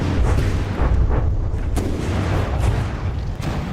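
Heavy booming artillery shell fire in a naval combat video game, a dense continuous rumble of repeated blasts with sharper impacts cutting through, loud and sustained throughout.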